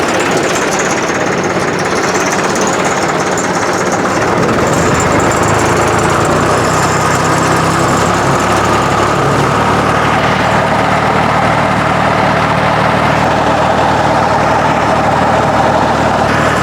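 John Deere tractor engine with a brush cutter running for pasture clipping, a loud steady drone that rises slightly as RPMs increase and holds alone throughout.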